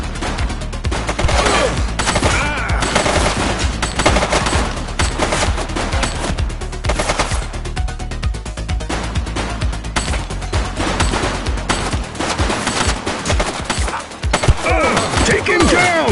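Rapid bursts of gunfire in the police video game The Precinct crack out in dense volleys, loud and repeated, with shouted voices mixed among the shots.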